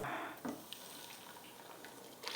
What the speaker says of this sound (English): let us strain our milk